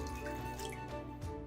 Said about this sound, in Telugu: దాంట్లో ముందు ఒక అర గ్లాసు నీళ్ళు పోయండి